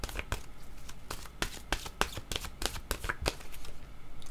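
A deck of playing cards is shuffled at close range, producing a run of crisp riffling bursts and flicks in quick irregular succession, with no voices.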